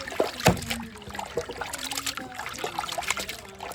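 Water trickles and splashes steadily while fish are rinsed by hand several times, with a sharp splash near the start and smaller drips and dribbles throughout.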